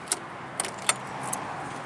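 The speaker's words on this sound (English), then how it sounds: "this one here unlocks the deadbolt" A key works the deadbolt on an RV entry door, with a few sharp metallic clicks and jangles spaced apart, close by against a quiet outdoor background.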